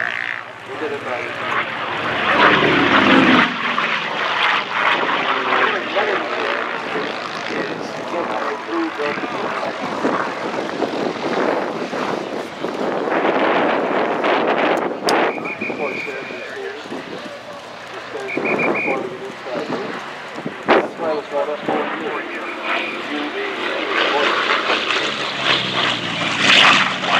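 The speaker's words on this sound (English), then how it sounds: "I thought that was the F4U Corsair" An F4U Corsair WW2 fighter plane flying overhead at an air show demo, a sustained propeller-engine roar rising and falling, with people talking throughout.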